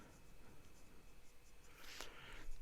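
Soft scratching of a King Cobra fountain pen with a broad stub nib moving across paper, quiet and close, with a brief sharper stroke near the end.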